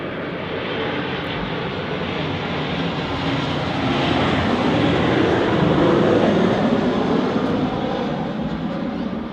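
Air France airliner landing at Manchester Airport, a steady, loud jet engine roar that builds slightly in the middle and holds without break, heard from nearby at the airfield.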